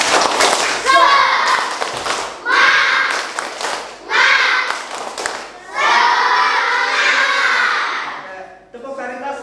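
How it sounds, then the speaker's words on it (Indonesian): Schoolchildren in a classroom perform a rhythmic spirit clap, with bursts of clapping in patterned groups mixed with loud chanted voices. Several energetic phrases run back to back with short pauses between them. "coba kita tepuk semangat dulu"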